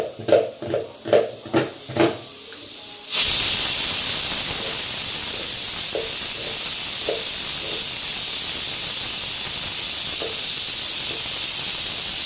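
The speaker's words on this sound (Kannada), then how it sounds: "ಆಲೂಗೆಡ್ಡೆ 3 ವಿಷಲ್ ಆಗಿದೆ" A pressure cooker cooking potatoes lets off steam. A few soft rhythmic knocks come first, then a loud, sustained hiss of venting steam runs unbroken to the end.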